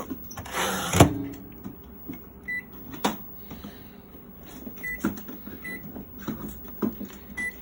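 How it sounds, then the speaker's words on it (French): A running microwave oven in a home kitchen gives a faint, low hum with a louder clunk near the start and a few short beeps and clicks scattered through. "On va mettre le micro-ondes en route."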